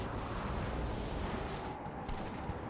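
Cannon artillery fire in the battle game Napoleon Total War, a dense continuous rumble of booms and crackling gunfire with a few sharper reports standing out from the steady roar.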